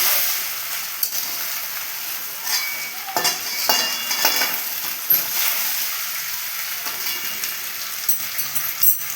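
Chilli and other ingredients fry in a pan over a high flame for egg paneer fried rice, giving a steady, close sizzle with scattered scraping and clinking strokes, and nobody speaks.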